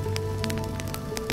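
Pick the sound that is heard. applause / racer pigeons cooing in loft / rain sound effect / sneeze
rain sound effect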